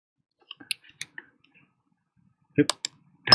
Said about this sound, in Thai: ตัวนี้ก็คือเอาเมาส์คลิกเข้าไปธรรมดานี่แหละเดี๋ยวเมาส์คลิกเข้าไป